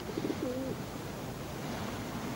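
A pigeon coos softly in a few short low notes at the start, then goes quiet against a steady hiss of background noise, with no voices.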